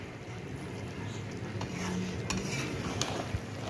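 Govindobhog rice and fish heads being stirred in a pot over a lowered gas flame: a continuous close scraping and shuffling with a few metallic clinks of a spoon against the pot, no speech.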